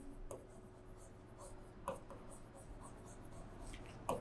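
Pen scratching across paper in soft, uneven strokes, with a few sharper taps and scrapes, close and fairly quiet over a low steady room hum, no voice heard.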